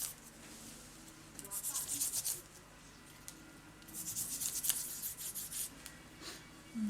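A hand rubs across the back of paper for a paper flower craft, giving soft, close scratchy strokes in two bursts separated by a quiet pause.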